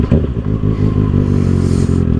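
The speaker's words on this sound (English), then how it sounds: "So we can hear this exhaust scream a little bit." A 2024 Kawasaki ZX-6R with an M4 exhaust rumbles and revs steadily up close on a freeway, a dense, continuous engine drone with a rising rasp and faint mechanical clatter, no talking over it.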